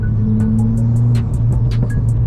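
A 320 bhp Stage 3 big-turbo Ford Fiesta ST engine revs loudly with a steady low drone, rapid high turbo whooshing pulses repeating on top, close up and continuous throughout.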